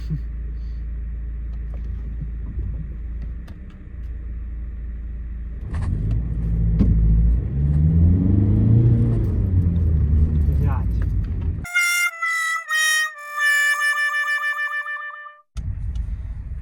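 Volkswagen Golf 5 accelerating from a standstill toward 100 km/h: a steady low engine rumble rises in pitch through the run, heard from inside the cabin, with a loud electronic beeping toward the end and voices talking.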